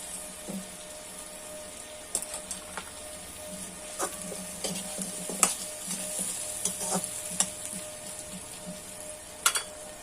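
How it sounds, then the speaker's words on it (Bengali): Potatoes and onions fry together in a pan, a steady close sizzle broken by repeated sharp scrapes and clicks of a spoon stirring, loud and continuous with no talk. "আলু পেঁয়াজটা একসঙ্গে ভেজে নেবো।"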